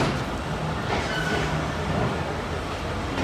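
The Chenab Express passenger train runs steadily between Malakwal and Harya, a continuous loud rumble and broadband rail roar heard from on board, with no talk.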